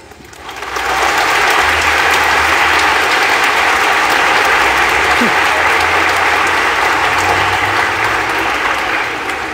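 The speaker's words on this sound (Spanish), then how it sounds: "vamos a mandarle a nuestra hermana toda nuestra energía con un fuerte aplauso." A church congregation at a concert in a Divine Mercy sanctuary breaks into loud, sustained applause, dense and even, rising quickly and holding steady throughout.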